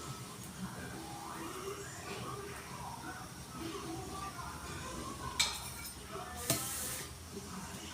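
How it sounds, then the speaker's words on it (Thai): Rice being stir-fried in a pan with garlic, a faint steady sizzle broken by a couple of sharp spatula clinks against the pan, while someone talks throughout. "มาผัดข้าวกันนะครับ"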